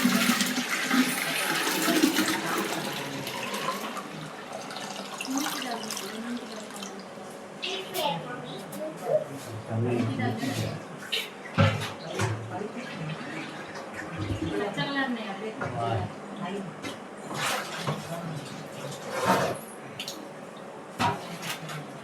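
Water is poured from a vessel, rushing and splashing loudly at first, then falling in intermittent spills and drips while a person talks.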